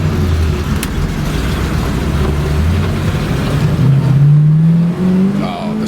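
The 400 engine of a 1973 Pontiac Grand Am four-speed revs loud and close as the carburetor secondaries open, its steady rumble climbing in pitch into a rising roar.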